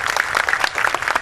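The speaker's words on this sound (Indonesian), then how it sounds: "Tepuk tangan untuk beliau." Applause from an audience at a milad (anniversary) celebration gathering of a pesantren community, honoring Pak Iwan Setiawan, a Protestant guest; a short burst of dense, steady clapping close by, with no talk over it.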